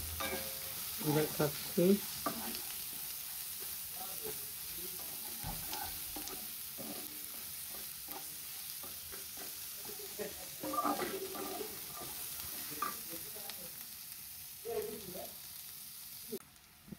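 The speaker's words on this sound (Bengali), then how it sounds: "পেঁয়াজটাকে ভাজা দিয়ে নিই।" Onions frying in a pan for a beef tripe bhuna, with a steady sizzle and occasional stirring clinks over a long stretch, while a voice speaks briefly.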